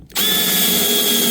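A Milwaukee drill driving 1-inch fine thread panhead screws into a dadoed face frame gives a loud, steady, close whine that starts after a brief pause and holds unbroken.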